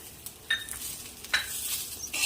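Green chilies and garlic cloves dry-roast over low heat in a pan for sesame chutney, with scattered light scrapes and clinks of a spoon stirring against the metal over a faint hiss.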